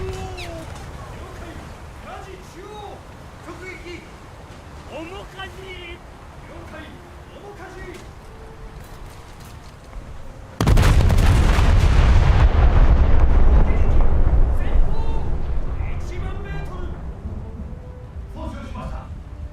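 Warship secondary guns firing in a naval battle game, a sudden heavy roar of overlapping blasts that holds loud for several seconds before tapering, with someone talking over the gunfire.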